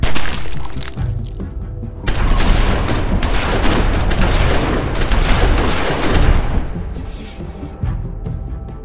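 Gunfire in a shootout in The Walking Dead Season 2 video game, loud close bursts of rapid shots and crackling impacts rolling continuously for several seconds, briefly easing before a second sustained barrage.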